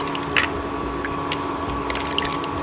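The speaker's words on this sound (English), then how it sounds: "I'm going to add water into this yummy bowl which has all the juices and the marination." Water poured into a bowl of leftover chicken marinade juices for a Maharashtrian CKP chicken curry, a steady close liquid fill with small splashy squelches and drips throughout, no talking.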